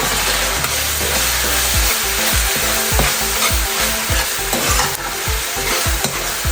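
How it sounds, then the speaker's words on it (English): Sofrito and onion frying in a pan while being stirred, a loud steady sizzle with repeated scraping strokes of the spoon at close range, roughly two per second, no talking. "You just go ahead and stir it up, mix it up with the onion."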